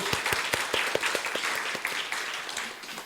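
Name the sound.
applause at church congregation meeting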